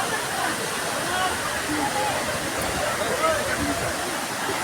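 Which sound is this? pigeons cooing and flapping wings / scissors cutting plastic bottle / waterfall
waterfall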